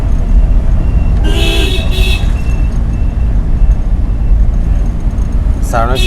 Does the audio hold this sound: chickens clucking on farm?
no